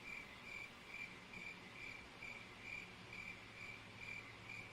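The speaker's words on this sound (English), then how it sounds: "Crickets again." Crickets chirp steadily in a high, regular pulse, repeating evenly over a low, constant background hiss with no voices.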